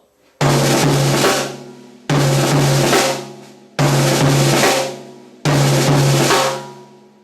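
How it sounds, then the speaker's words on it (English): Four loud six-stroke drum rolls on a floor tom, evenly spaced, each a dense burst of rapid strokes that sustains briefly and then decays. "Same example played on the floor tom."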